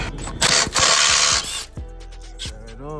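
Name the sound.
removing E18 bolts with ratchet on BMW 440i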